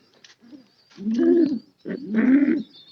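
A close pigeon gives two long, throaty coos that swell and fade, with a few softer short coos before and after, alone and clear.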